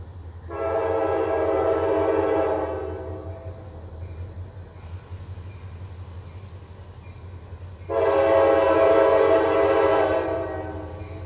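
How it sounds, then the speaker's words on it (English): An EMD locomotive horn passing a freight train sounds two long, loud chords close by, with a softer middle stretch between them over a low rumble of rolling cars. "It's a pretty loud horn."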